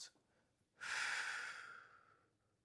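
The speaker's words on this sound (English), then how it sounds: "Breathe in and breathe out." A long, breathy exhale during a gentle back mobility exercise, preceded by a faint shorter breath; close and fairly soft, with no talking.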